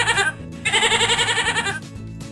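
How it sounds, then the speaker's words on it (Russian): A farm goat bleats in a cartoon for children, two wavering, nasal calls close up with a short gap between them, followed by a quieter tail. "Это коза. Она мекает."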